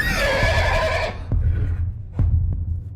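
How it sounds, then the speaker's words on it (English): A horse in a stable lets out a loud, drawn-out whinny that fades after about a second, followed by quieter snorts and low rumbling noises, with no talk. "Anderson's horses pulled loose of its reins and began neighing"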